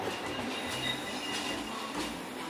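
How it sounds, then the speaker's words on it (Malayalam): A local train coming from the airport passes in Morocco, a steady broad rumble of wheels and carriages that stays loud and even throughout, with no talk. "ഇത് ലോക്കൽ ട്രെയിനാണ്, ഇത് എയർപോർട്ടിൽ നിന്ന് വരുന്ന ട്രെയിനാണ്"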